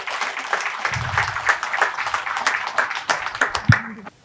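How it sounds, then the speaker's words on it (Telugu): Applause from an audience welcoming a speaker to the stage at an indoor talk, with steady clapping throughout, moderately loud, and some faint voices and thumps underneath. "సో సార్ని గట్టిగా చప్పట్లతో వేదిక మీదకి ఆహ్వానించుకుందాం."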